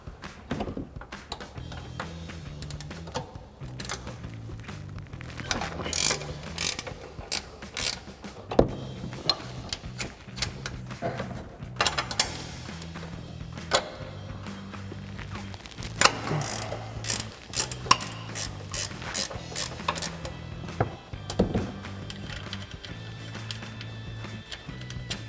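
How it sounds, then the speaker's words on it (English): A 15 mm ratchet wrench removes the three upper strut mounts on a RAM 1500 during a front strut and spring install. It gives repeated close clicking bursts in bouts across the stretch, with no talk. "Now we can remove the 3 upper strut mounts using our 15 millimeter ratchet wrench."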